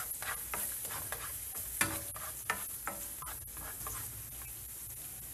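Garlic frying in a little oil in a hot pan while cooking beef salpicao, a continuous close sizzle broken by a few sharp stirring scrapes and taps, no talking.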